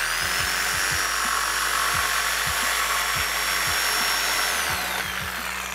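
A power saw cuts wood for spice rack shelves, running loud and steady with a high whine throughout and a slight change in pitch near the end.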